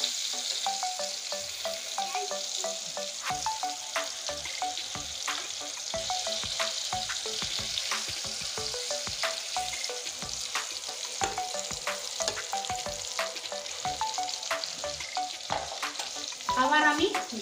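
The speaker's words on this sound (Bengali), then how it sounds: "এখন আমি আলু ভাজাগুলো দেখে নিচ্ছি কতটা হয়েছে। নেড়ে দিচ্ছি সুন্দর করে।" Potatoes fry in a pan with a steady, close sizzle while a utensil stirs them, its light scraping clicks recurring throughout and growing louder near the end.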